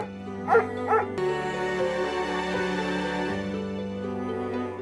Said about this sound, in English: These dogs clearly missed him so much.